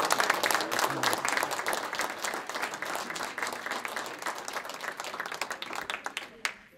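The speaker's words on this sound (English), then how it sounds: "I give you a round of applause" A town hall meeting audience applauds in a dense, steady burst of clapping that gradually thins out and fades toward the end.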